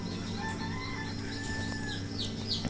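Chickens and young chicks on a farm make soft clucks and thin chirping peeps over a steady low background hum, with a light flutter of wings and no talking.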